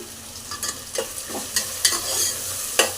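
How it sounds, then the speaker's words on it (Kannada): Food frying in a pan during home cooking, with a steady sizzle broken by scraping stirs and a few sharp spatter-like bursts, close and fairly loud with no talking. "ನೋಡಿ, ಈ ಥರ ಚೆನ್ನಾಗಿ ಫ್ರೈ ಆಗಬೇಕು"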